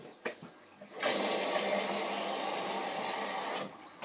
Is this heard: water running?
yes